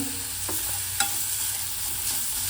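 Onions sauté in oil with ginger-garlic-chili paste and asafoetida for aloo paratha, giving a soft, steady sizzle broken by a few close spoon scrapes and taps. There is no talk.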